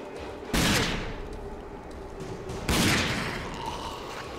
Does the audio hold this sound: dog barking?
no